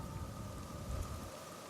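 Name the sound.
storm receding, rain and thunder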